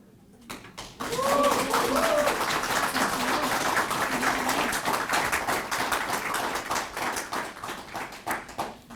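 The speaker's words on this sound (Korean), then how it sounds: "여러분의 큰 박수 다시 한번 부탁드립니다" An audience at a mayoral candidacy press conference in Yongin breaks into applause. Dense, sustained clapping starts after a second and runs loud and steady, then thins into scattered claps near the end.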